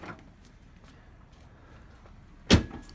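A Jeep JK door on new heavy-duty hinges swings shut with one solid, loud slam near the end, after faint clicks and quiet shuffling.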